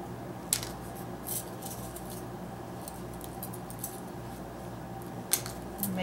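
Craft wire being cut with snips while making small wire butterflies: a few faint, sharp clicks over a quiet room background, without voices.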